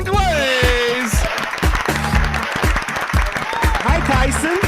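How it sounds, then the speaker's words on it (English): A live talk-show audience applauds a co-host being welcomed, clapping running under a background music bed, with voices speaking over the crowd. "Say a round of applause for Miss Tyson Glaze."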